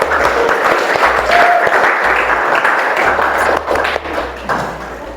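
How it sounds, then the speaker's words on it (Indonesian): A classroom group claps together during a teaching practice session, fairly loud and close, the clapping thinning and wavering toward the end with a few thumps and taps mixed in. "tepuk tangan buat semuanya"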